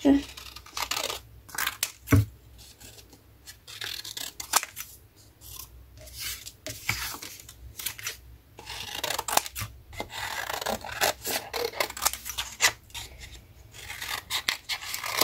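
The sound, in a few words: cutting with scissors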